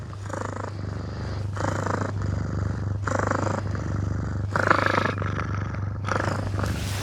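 A kitten purrs close up, a loud continuous rumble that swells and fades in bursts with each breath, alone with no talking.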